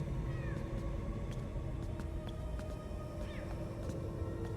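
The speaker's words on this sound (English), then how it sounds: "I hear a cat in the game." A cat meows a couple of times inside the horror video game The Coma 2B: Catacomb, short rising cries standing out over a constant low rumbling ambience.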